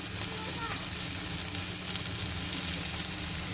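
Cashews and melon seeds fry in hot oil with a chicken curry base while being stirred, producing a dense, constant sizzle close up with no talking.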